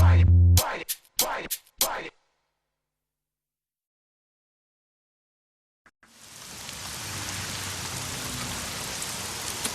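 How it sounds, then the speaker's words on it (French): Steady rain falls, a dense even hiss that sets in after a few seconds of silence and holds strong to the end, preceded by a few short sharp bursts of sound. "La pluie, toujours la pluie."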